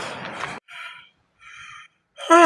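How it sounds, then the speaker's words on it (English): A heavily pregnant woman pants after walking to her car: two breathy, airy exhalations, close and fairly quiet, separated by short silences, with voiced sounds just before and after. "See how I'm panting as though I fell down from 10-story building."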